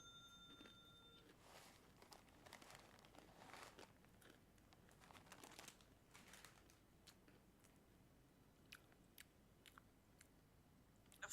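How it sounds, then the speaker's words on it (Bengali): Crunchy chanachur snack mix with raisins being chewed close to the microphone, a quiet irregular series of crisp bites and crackles with small clicks, no talking. "ফালতু চানাচুর খাচ্ছি, খিদে লাগছে তাই খাচ্ছি"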